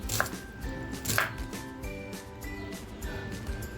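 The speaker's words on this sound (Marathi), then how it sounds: "जो मी कांदा घेतला आहे ना तो कांदा आपल्याला अगदी बारीक कापायचा नाही आहे असे छान मोठे मोठे स्लाईजमध्ये कापायचे" Knife strokes chop an onion into large slices on a board, a steady run of crisp taps and cuts up close, with a few sharper whacks at the start.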